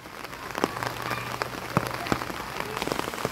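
Monsoon rain patters steadily on a house rooftop, a dense close hiss of drops with a few sharper splats standing out.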